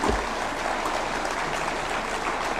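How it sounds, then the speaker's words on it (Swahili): Crowd applause for county governors at a public gathering, a steady, dense wash of clapping from many hands that holds evenly throughout, moderately distant and without a clear break. "we can do a round of applause to all our counties"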